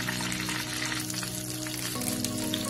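Kashmiri red chili powder sizzling in hot desi ghee in a pan, a continuous close crackling fry with steady bubbling and no voices.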